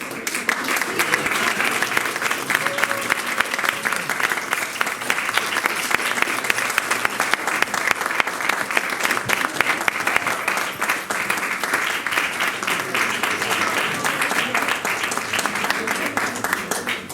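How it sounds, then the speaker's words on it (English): An audience applauds after a children's theatre performance at a festival, dense sustained clapping from many hands that runs steadily the whole time, close and loud, with a voice speaking briefly over it. "Please give them a round of applause."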